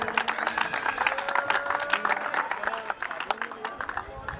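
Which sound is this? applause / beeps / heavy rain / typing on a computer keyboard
applause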